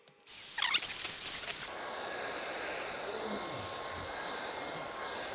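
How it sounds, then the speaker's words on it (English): A cordless vacuum starts with a rising whine, then runs steadily at close range, its pitch shifting slightly as it moves over a couch. "So I'm going to vacuum my couch here and see what I can get up."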